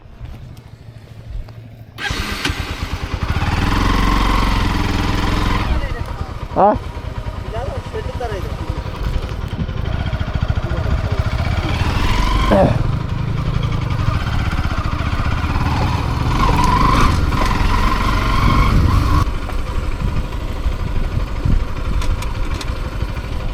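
A motorcycle engine starts and keeps running with a steady mid-pitched drone on a rainy off-road ride, loud and close, with brief speech over it.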